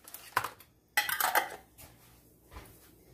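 A tablespoon of minced garlic from a jar goes into a soup pot for Italian wedding soup, with a couple of close metallic clinks and scrapes of the spoon against the pot.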